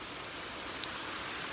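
Steady rain pours down outdoors during Hurricane Florence, a continuous even hiss of falling water with no talking.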